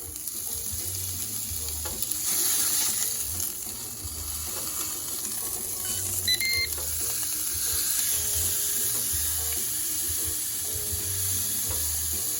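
A ribeye steak sizzles steadily on a Ninja Foodi XL Pro grill, a close continuous hiss, with a brief scrape and clatter as silicone tongs slide under and flip it partway through.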